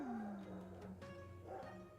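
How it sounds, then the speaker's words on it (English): Dogs bark and whine faintly in the background of a quiet room, with a couple of distant yelps and a drawn-out whimpering tone. "you may hear some doggos barking"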